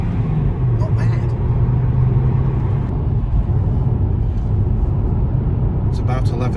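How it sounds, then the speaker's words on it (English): A Hyundai Kona Hybrid accelerating hard from traffic lights, heard from inside the cabin: a steady low engine and road rumble with a rising hum, loud and close, with brief voices over it. "Flooring it off from the lights."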